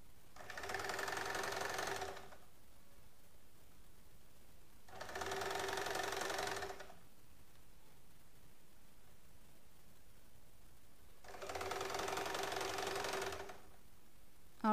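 Sewing machine stitching folded fabric for a child's frock, three separate bursts of steady mechanical whirring about two seconds each, separated by quiet pauses.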